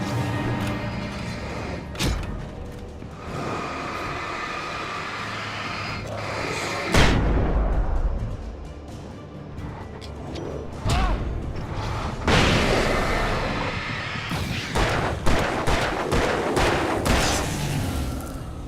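Repeated gunshots ring out in Alan Wake Remastered, loud broadband blasts at irregular intervals, some clustered in quick bursts, over a dark rumbling game ambience.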